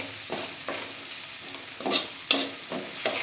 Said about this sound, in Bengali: এভাবে নাড়াচাড়া করার